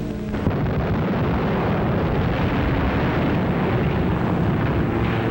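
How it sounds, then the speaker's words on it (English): German bombs exploding over central Rotterdam during the Second World War: a dense, loud, continuous roar of blasts and rumble with no break. "Flights of unopposed German bombers flew low over the center of Rotterdam and methodically bombed it into a heap of rubble."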